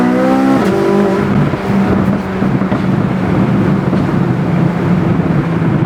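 A 2023 Chevrolet Corvette Z06 engine accelerating hard, a loud rising roar with a steady climbing pitch and a brief shift early on, heard close and alone without speech.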